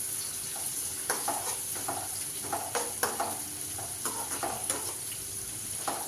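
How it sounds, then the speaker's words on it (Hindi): Okra (bhindi) fries quietly in a pan, with a soft continuous sizzle broken by irregular scraping and clicking stirs of a spatula. "ये अच्छे से फ्राई होती रहेगी।"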